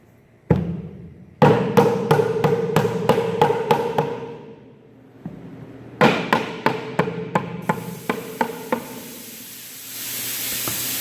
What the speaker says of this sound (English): You're going to slide the dovetails on. You're Use your mallet again.